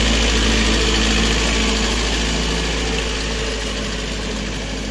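A tractor engine runs steadily in a muddy paddy field in Konkan during rice transplanting, with a loud, continuous close rumble that hardly changes and no voices.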